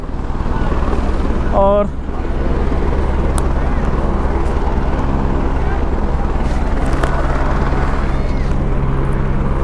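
Helicopters flying near Kedarnath send a steady, loud rotor and engine drone through the whole stretch, with a brief voice over it.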